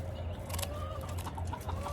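A chicken clucks steadily at close range on a spring homestead while its wings are being clipped, with soft handling noises and a low hum underneath.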